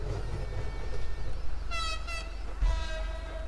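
Truck horn in GTA 5 sounding in two loud blasts, a short one and then another about a second later, over steady vehicle engine noise during a GTM80 Guardian parkour run.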